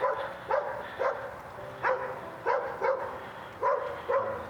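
A dog on a patio barks in a loose rhythm, single and paired barks a half second or so apart, moderately distant over a quiet background.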